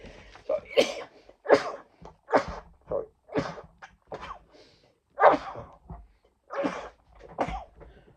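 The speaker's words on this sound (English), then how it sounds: "There's my cat sneeze for you." A run of sharp, sneezy bursts, about a dozen in quick succession with brief pauses between them, close and fairly loud.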